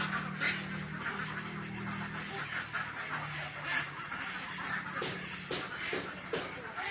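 A flock of about a thousand ducks on a duck farm quacks and honks in a steady, busy chorus, with sharper calls cutting through near the end.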